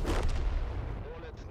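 Tier 8 artillery firing in a tank battle video game: a loud, heavy boom opens, followed by a long rumbling decay with low-frequency roar persisting throughout.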